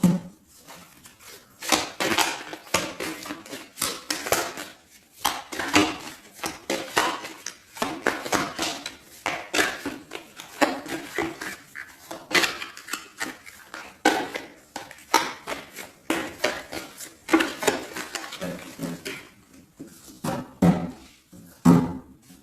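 A tarot deck is cut and shuffled, giving repeated bursts of crisp card slaps and riffles at close range in an irregular rhythm, with no talk.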